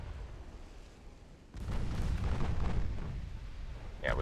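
Naval guns firing armor-piercing shells in the warship game Ultimate Admiral: Dreadnoughts, a heavy booming blast swelling into a sustained rumble, followed by a sharper crack near the end.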